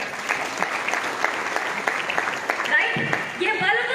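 Seminar attendees at a leadership training session in a hotel hall clap for themselves, giving a sustained burst of brisk, close applause that thins out toward the end while a voice begins to speak.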